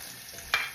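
Chopped onions hit a hot pan for an oyster stew, giving one brief sizzling burst over a faint steady kitchen hiss.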